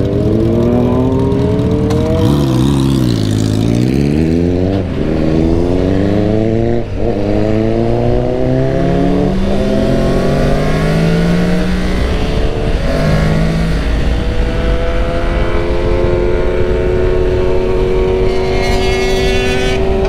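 Motorcycles accelerating hard on a night ride, loud close engine roar climbing through repeated gear-change sweeps, with wind and road rush underneath.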